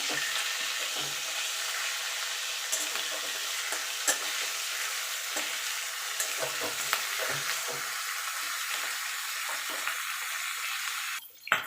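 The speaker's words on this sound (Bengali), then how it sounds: "মাছের মাথাটা কিন্তু একটু ভালো করে ভাজতে হবে" Fish heads dusted with turmeric powder fry in hot oil with a steady, close sizzle and crackle, broken by occasional stirring scrapes, with no talking.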